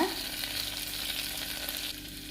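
Green chillies and garlic sizzle in hot tempering oil along with shallots and curry leaves for a black-eyed pea rice dish, giving a steady, close, even frying hiss throughout with no talk.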